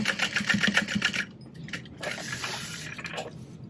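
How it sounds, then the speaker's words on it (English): A sewing machine stitches a small fabric mini backpack, a quick, rhythmic run of needle strokes that stops after about a second, followed by quieter, scattered handling noises and a few short stitches. "I'm just gonna sew a little bit at an angle"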